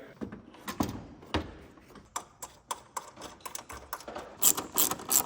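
A hand ratchet clicks in quick, irregular bursts while snugging headlight bolts on a Mercedes-AMG GT63, crisp pawl ticks close by with brief pauses between strokes.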